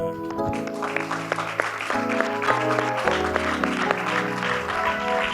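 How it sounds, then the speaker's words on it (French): A church congregation applauds and cheers at a service welcoming a pastor, a continuous clapping wash mixed under loud, sustained music. "Ces acclamations étaient pour toi"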